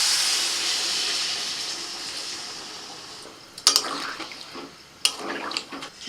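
Water is poured into a pan of potatoes frying in goat fat: a steady sizzling hiss, then sharper splashes and bursts of crackling as the liquid hits the hot fat, close by.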